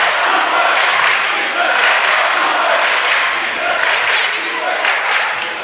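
A boys' or girls' varsity high school basketball game, Lexington High vs. Belmont, with a ball being dribbled amid loud, continuous crowd noise and gym echo, bounces partly buried under the din.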